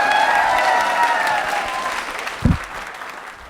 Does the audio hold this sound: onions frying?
no